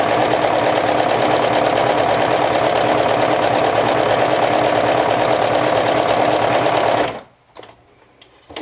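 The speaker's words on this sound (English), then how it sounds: "Let's see how the unicorn mane does in the serger." A Baby Lock 1034D serger running steadily with Unicorn Mane thread, a fast, even mechanical whir lasting about seven seconds, close and loud, then stopping abruptly into near silence with a few small clicks.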